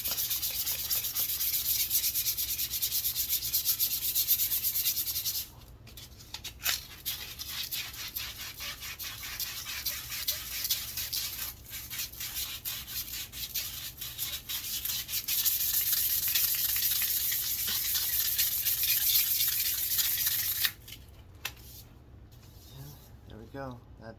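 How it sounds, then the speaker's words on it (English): Steady abrasive rubbing of sandpaper on a handmade wooden walking stick, a sanding pass between coats before and after clear coat, close and continuous with brief pauses around five and twenty-one seconds. "second to last sanding, or third to last sanding, because I sand a little bit after clear coat"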